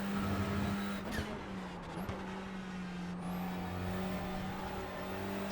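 A Mercedes race car engine in the iRacing sim revs and shifts at a steady, fairly faint level, rising and falling in pitch through gear changes for several seconds without talk.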